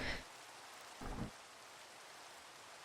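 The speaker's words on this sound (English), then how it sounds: "really wish it wasn't raining." Steady rain falls in the forest of the video game Forever World, a soft broadband hiss that holds throughout, with a brief low thump near the middle and another at the very end.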